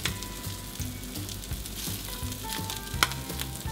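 Crab cakes fry in oil over medium heat, giving a steady, moderate sizzle throughout, with faint background tones and a brief sharper tick near the end.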